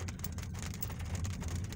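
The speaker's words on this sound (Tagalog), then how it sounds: "Rinig ko sa ibabaw ng sasakyan natin yung patak." Rain falls on the roof of a moving car during a drive on C6 road in Taguig, a steady dense patter of drops over a low rumble of road and engine noise, with no talking.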